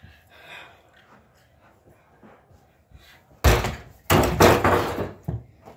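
A ball thrown against the middle of a door at home, giving two loud, close thuds near the end after quiet shuffling and soft background noise.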